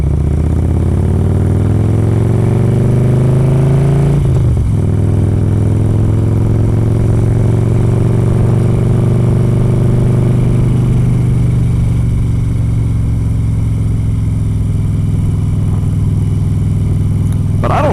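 A Harley motorcycle engine rumbles loud and close while riding, its pitch climbing steadily and then dropping sharply as a gear is shifted, followed by a steadier drone and another brief shift near the end.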